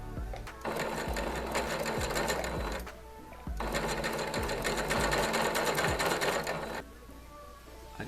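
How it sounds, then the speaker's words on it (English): A sewing machine stitching a gown seam, two loud, fast mechanical runs of rattling needle strokes close by, separated by a short pause, with a softer quiet tail at the end. "So I'm going to sew up back to where I left off."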